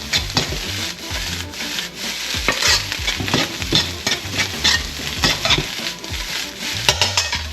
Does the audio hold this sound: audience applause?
no